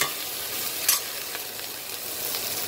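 Okra sautéing in a pan, a bright continuous sizzle with a brief sharper spatter near the start, close and even throughout.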